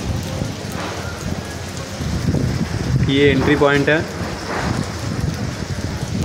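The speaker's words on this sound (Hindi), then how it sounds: "वो बारिश स्टार्ट हो गया" Rain begins falling outdoors by a building entrance, a steady close patter and hiss on surfaces throughout. Someone speaks briefly midway.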